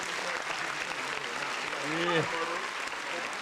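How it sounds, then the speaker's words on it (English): Steady applause for a podcast guest, a continuous wash of clapping under a man's short spoken reply. "Give him a round of applause."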